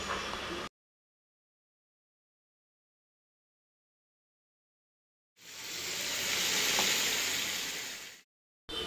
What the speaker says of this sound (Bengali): মাছটাকে আমি 5 মিনিট সময় নিয়ে মাঝারি আঁচে তেলের মধ্যে ভেজে নিচ্ছি।